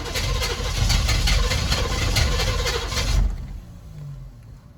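A diesel truck engine with glow plugs off cranks in rapid, rhythmic starter pulses that sputter without catching, then stops, leaving a quieter tail.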